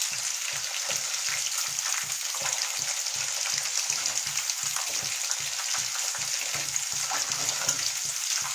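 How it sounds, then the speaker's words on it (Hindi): Food frying in a pan for a homemade gravy, a steady dense sizzle with light crackle running continuously throughout, accompanied by soft rhythmic low stirring or scraping strokes close by. "इसे 2-3 मिनट में ये अच्छे से फ्राई हो जाता है।"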